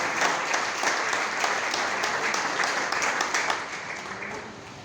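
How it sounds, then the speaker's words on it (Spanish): Sustained applause from a large church congregation, steady and loud throughout, thinning slightly toward the end. "Apláudanlo con todas sus fuerzas."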